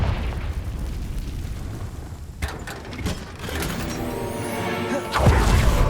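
Fiery Confringo spell blasts in the Hogwarts Legacy video game: a sharp burst near the middle and a heavier booming impact near the end, over a dense, noisy game soundscape.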